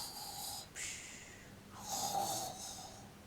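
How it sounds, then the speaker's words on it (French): Wolf snoring as a storybook sound effect: two slow, soft snores, each a drawn-out rasping breath heard alone and close, with a short pause between them. "C'était le loup qui ronflait."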